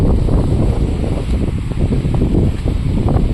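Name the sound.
wind blowing at a campsite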